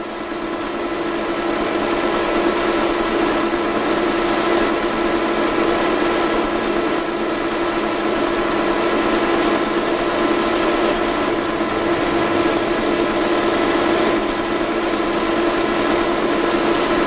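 Metal being turned on a lathe during a single continuous 43 mm cut, with cutting fluid supplied to cool the tool, giving a steady machine hum and whirr that runs unbroken for the whole stretch.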